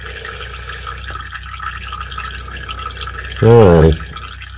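Engine oil drains steadily from a vehicle into a nearly full drain pan, a soft continuous trickling under brief casual talk, with a short louder gurgling burst near the end.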